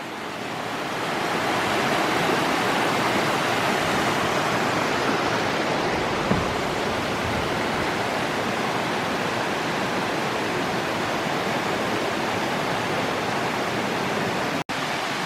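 The river in Whiteoak Canyon, Shenandoah National Park, rushes below a footbridge with a steady, loud, unbroken roar of moving water that holds constant throughout.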